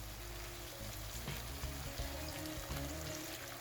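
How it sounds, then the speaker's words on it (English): Stock poured into a pan of vegetable risotto, a short steady liquid pour over a constant low cooking rumble, close and fairly loud, with no talking. "Adding some more stock,"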